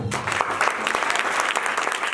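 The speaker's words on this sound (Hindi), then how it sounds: "जोरदार तालियां दो" An audience at a sermon or talk claps together in a brief, dense round of applause. It sounds moderately close and even throughout.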